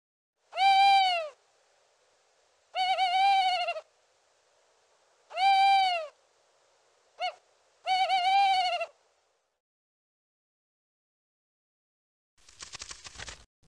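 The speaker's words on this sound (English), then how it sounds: "tawny owl." A tawny owl hoots clearly and fairly close, giving four drawn-out hoots and one short clipped note spaced a few seconds apart over quiet, followed by a brief noisy rustle at the end.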